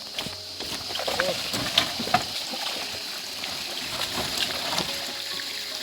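A river flows with a steady, broad rushing hiss that runs throughout. A few faint knocks and splashes rise briefly above it, and no one speaks.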